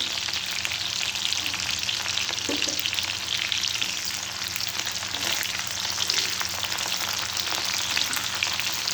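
Onion fries with salt in a pan for tomato chutney, a steady, dense sizzle with crackling spits throughout and no voices.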